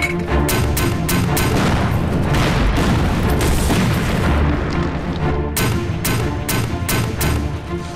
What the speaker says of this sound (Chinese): 冲着他们前沿阵地给我狠狠地轰！